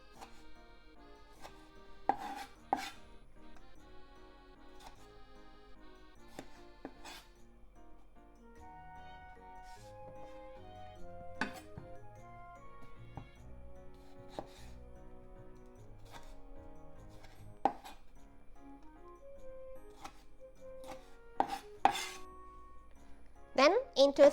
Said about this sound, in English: Tomato into half. And cut the stem off.